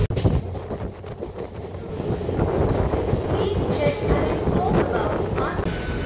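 The interior of a moving Belur Math local train, a twelve-coach commuter train, rumbles continuously as the wheels clatter, with a brief jolt at the start and wind noise across the microphone.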